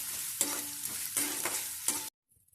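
Onions sautéed in a pan for rava kichadi: three rhythmic scraping stir strokes over a loud, close sizzle, then a sudden cut to near silence.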